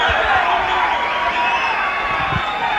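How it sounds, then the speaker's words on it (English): Boxing crowd reacts to a knockdown count with a brief, sustained roar of shouting and jeering, a dense mass of voices heard fairly close. "the crowd is not happy about it"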